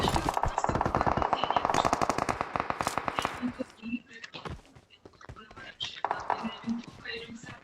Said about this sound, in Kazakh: Ана жақта атысып отыр, ар жақта атысып отыр.